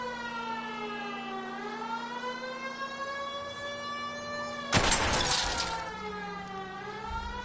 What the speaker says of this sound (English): That's not the right siren.